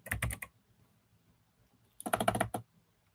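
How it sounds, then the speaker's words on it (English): Two quick bursts of rapid clacking keystrokes on a mechanical keyboard, close and crisp, separated by a quiet pause, with no voices. "it's a mechanical keyboard. It's pretty sweet."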